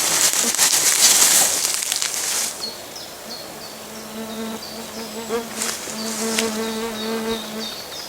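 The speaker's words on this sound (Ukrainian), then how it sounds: "А зараз ходімо, а то мене комарі ще заїдають." Mosquitoes whine in a forest thicket, a thin, high buzz that rises and fades as they pass close by, with two or three insects overlapping. Rustling comes first, and the buzzing is clear and near.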